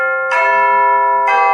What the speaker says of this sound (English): And team 2 gets the chimes.